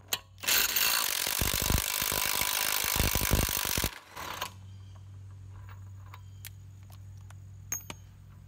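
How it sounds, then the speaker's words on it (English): A ratchet spun against an axle nut on a jacked-up vehicle, loud rapid clicking for about three seconds, then quieter scattered metallic clinks over a low hum. "Take the axle nut almost all the way off."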